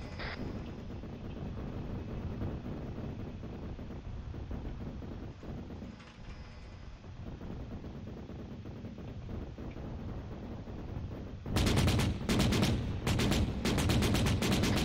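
BMP armored vehicles firing their guns in Arma 3: a long rumbling, wind-like background, then several loud, sharp bursts of cannon fire clustered at the end.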